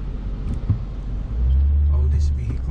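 Vehicles sit idling and creeping in a traffic jam at a red light in Vero Beach, Florida, the day after Hurricane Dorian. A low engine rumble swells partway through as a nearby car pulls forward, with faint voices in the background.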